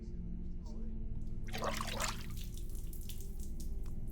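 Water bubbling and trickling around lungs placed in water during an autopsy in the Autopsy video game, a short burst of bright, splashy gurgling in the middle over a low steady background hum.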